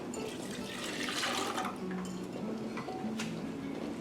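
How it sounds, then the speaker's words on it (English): Two cups of milk are poured into a cooking pan in a home kitchen, making a steady, continuous liquid splashing and gurgling close by that lasts the whole stretch without speech. "To that, you're going to add your 2 cups of milk"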